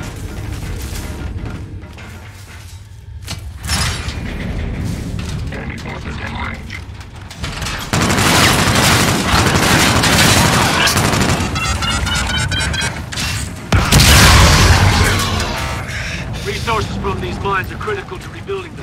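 Call of Duty: Infinite Warfare combat in the Operation: Dark Quarry mission near a mine, with loud, dense automatic gunfire and bursts that swell and fade across the scene, plus mechanical clanks and booms. Voices speak over the battle.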